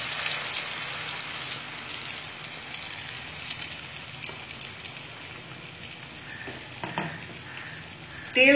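Malpua batter fries slowly in white oil turned down to low heat, a soft, continuous sizzle with a few utensil clinks and scrapes toward the end.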